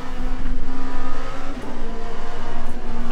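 Race car engine in the sim racing game Le Mans Ultimate, at Sebring, revving hard and accelerating with a steady pulsing drone, loud and close, with no talking.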